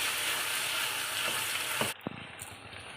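Capsicum sizzles and fries loudly in a pan of mash dal, a steady crackling hiss that cuts off abruptly near the end, leaving a few spatters and utensil clinks.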